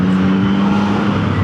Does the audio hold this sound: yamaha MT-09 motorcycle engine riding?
yes